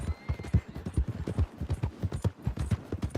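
Horse hooves gallop in Red Dead Redemption 2, a fast, steady clip-clop rhythm of loud, close beats running throughout without speech.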